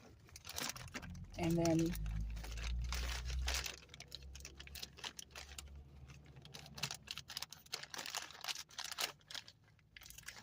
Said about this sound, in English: what I like to do is go into the middle and make a little cut